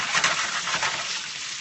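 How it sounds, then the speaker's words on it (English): Pork hitting a hot pan for a stir fry, a loud close sizzle that crackles briefly and settles into steady frying hiss. "I'm going to throw in the pork."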